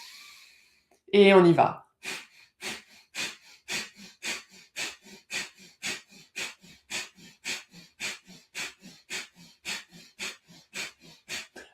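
Rhythmic deep breathing during a Kundalini heart-chakra meditation: after a short spoken phrase, steady quick breaths repeat about twice a second, even and close, continuing alone for around ten seconds.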